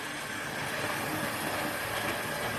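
A Hornby, Airfix or Mainline model railway locomotive runs around the track, giving a steady, close mechanical whir and hiss with a faint rolling clatter that continues unbroken, with no talking.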